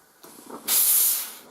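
A Laurastar Steamax G2 735 steam generator iron lets out a loud, close burst of hissing steam. It starts after a faint lead-in, holds strongly for most of a second and then fades.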